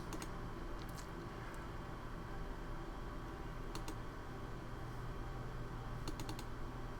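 An IBM PS/2 Model P70 mouse gives a few sharp, quiet double clicks, spaced apart over a low steady hum from the machine.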